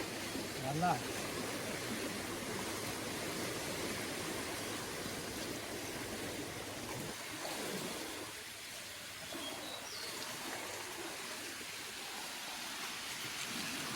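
A steady broadband rush of a flowing river, a tributary of the Muchkundi in rural Konkan, fills the scene continuously, with a faint bird call early on and a slight dip in the flow sound midway.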